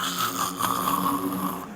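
A man imitates snoring with his voice, one long raspy, rattling drawn breath held for nearly two seconds, loud and close with no other talk.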